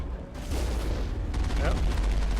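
Rapid gunfire and booming blasts crackle continuously at high volume in a Mass Effect firefight against Geth soldiers, forming a dense, roaring wall of combat sound.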